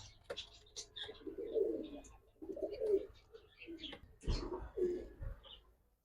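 Soft, low coos of yellow-eyed Khulna pigeons repeat in short rounded phrases close by, with faint rustling and scattered clicks around them.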